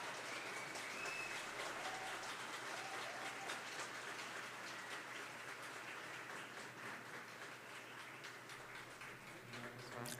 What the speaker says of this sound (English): a hand of applause to them